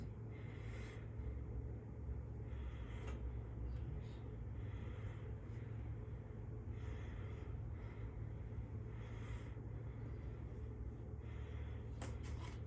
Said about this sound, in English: Deep breath for me, please.